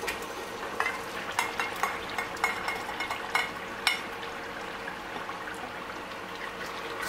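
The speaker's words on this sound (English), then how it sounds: "I've been frying our tomato paste now for approximately 4 minutes" Tomato paste sizzles steadily in a pan with light popping and a few clicks of a spoon stirring, moderately quiet and close.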